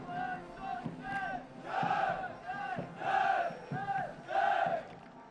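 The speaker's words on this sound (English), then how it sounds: "They will cheer the cadets of the passing out course." Cadets of the second term at the National Defence Academy cheer the passing out course at the parade, a massed chorus of shouted cheers rising in four or five rhythmic waves, loud and fairly close, with no talk over it.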